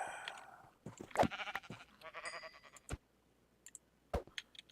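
Sheep bleating in a modded Minecraft skyblock game, several short nasal bleats close by, spaced out between sharp clicks and brief silences.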